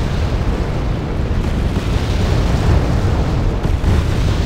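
Explosions from a bombing run in the video game Wargame roll out as loud, dense booms and rumbles that run continuously without a break.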